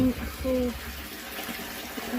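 Water gushing steadily from a hose fed by a Makita pump drawing from a well, a broad continuous splash and rush heard close by, with a voice talking over it.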